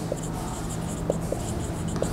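A teacher writes a maths fraction on a board, marker or chalk strokes sounding as a few short, quiet scrapes spread across a couple of seconds in a small, quiet room.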